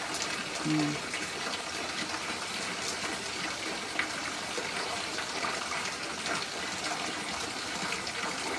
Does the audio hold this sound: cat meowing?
no